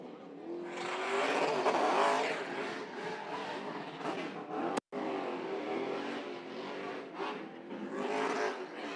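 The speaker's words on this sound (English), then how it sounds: "you got dual burnouts right there as you got the winner and the champion" Two race cars doing simultaneous burnouts on the racetrack after a race: sustained tire squeal and revving engines, loud but slightly muffled, continuing with a brief cut partway through.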